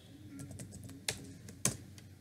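Keys tapped on a computer keyboard while typing a new file name in Windows 10: a quiet, irregular run of light clicks with two sharper, louder keystrokes, close by and with no talking.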